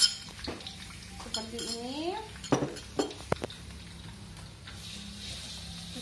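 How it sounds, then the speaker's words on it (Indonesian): Lemongrass, shallots and garlic dropped into a frying pan while making orek tahu, with clinking of utensils against the pan, a few sharp knocks and a low sizzle, close by, with a brief spoken phrase. "Kita masukkan serainya dan bawang merah, bawang putihnya"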